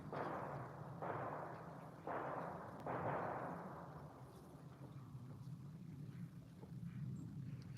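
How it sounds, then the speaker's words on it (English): Distant gunshots from a backyard range arrive as four or five muffled booms about a second apart, each trailing off. Wind rumble and outdoor ambience sit underneath. "Did you guys hear the gunshots?"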